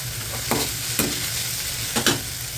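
Green chillies fry in a pan with a constant close sizzle, broken by a few sharp scrapes and clinks of stirring at roughly half-second intervals.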